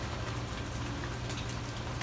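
Rain falls steadily in Key West, a dense even hiss of drops on surfaces with no breaks or voices.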